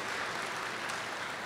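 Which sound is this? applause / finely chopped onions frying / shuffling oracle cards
applause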